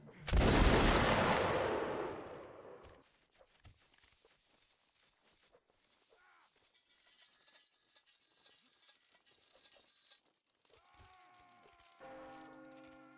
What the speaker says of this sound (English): To the left oblique. Aim. Fire.